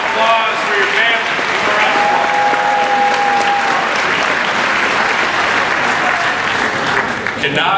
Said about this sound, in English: round of applause for your family